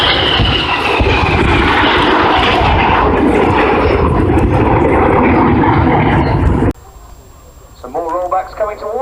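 Red Arrows display jets roar loudly overhead at the 2015 Cosford Airshow, a broad sustained engine rush for most of the clip before cutting to quieter crowd ambience with some voices.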